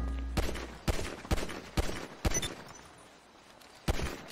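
Gunfire in GTA V: a string of sharp single shots, five evenly spaced at about half-second intervals, then a pause and one more shot, clear and close.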